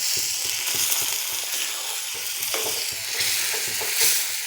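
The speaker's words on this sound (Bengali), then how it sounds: "এখন আমি বাকিতে একটা পানি দিয়ে দিচ্ছি।" A pan sizzles loudly and continuously as water is added and food is stirred, with scraping strokes repeating at an uneven rhythm.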